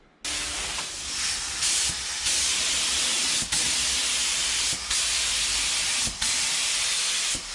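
A spray gun laying a second coat of paint on a car, loud bursts of airy hiss in several long passes separated by brief pauses, close up with no voices.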